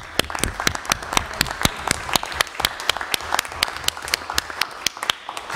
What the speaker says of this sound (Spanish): Pues un aplauso para Marisio, va.